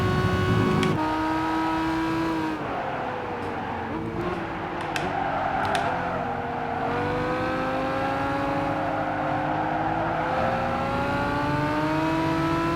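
Race car engines howl in Gran Turismo 5, with an old Lamborghini Countach closing in from behind: a steady high-revving whine with shifting pitch and a gear change, loud and continuous.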